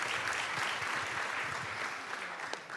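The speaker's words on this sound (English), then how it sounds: "An applause for Brighton." Audience applause fills a hall at a UN youth summit, a dense steady clapping from a large crowd that holds for about three seconds with no voices over it.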